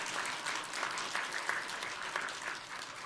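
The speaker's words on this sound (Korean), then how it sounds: "우리 하나님 앞에 영광의 박수를 한번 드리겠습니다" A church congregation claps together during a worship service, a steady, moderately loud round of applause lasting a few seconds with little talk.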